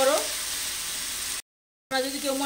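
Soaked green peas dropped into fried onions in a pan, giving a steady close sizzle that cuts to silence midway and then resumes, with a faint voice at the start and end.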